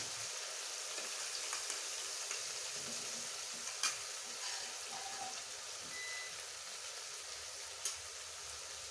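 A spice paste fries in a pan with a faint, even hiss throughout and a couple of small utensil taps, quiet and with no voices.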